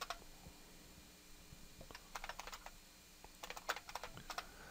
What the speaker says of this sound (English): open up the terminal emulator and then sudo apt get install LibreOffice